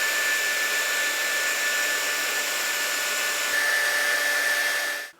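A wood router fitted with a small 4mm cutter, plunging about 5mm per pass as it follows a template to shape a tray, gives a steady, loud, high-pitched whine that runs unbroken and then winds down at the end.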